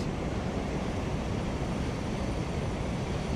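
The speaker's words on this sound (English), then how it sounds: "Some pretty big waves coming down now." Big ocean waves at Surfers Paradise beach on a morning, heard as a steady, broad roar of surf with some wind noise over it and no voices.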